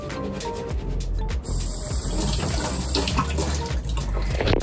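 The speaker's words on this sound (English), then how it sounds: "you have to wash your cans so you wash off the rat doodle" Food cans, including a chickpea can, rinsed under a running kitchen tap, with a steady loud rush of water splashing over metal throughout, no voices.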